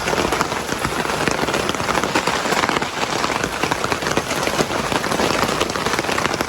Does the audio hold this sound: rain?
yes